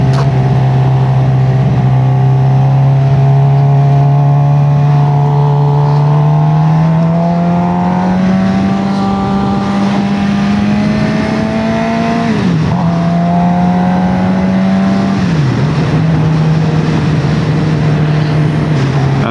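A motorcycle engine runs steadily and loud throughout, its low drone rising slightly in pitch with two brief dips as the throttle shifts, a constant close vibrating hum with no talk over it.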